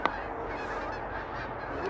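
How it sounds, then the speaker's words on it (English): Canada geese honk in the open air during a freelance waterfowl hunt in Manitoba, with one sharp honk near the start over a steady outdoor background of distant calling and wind. "Goose."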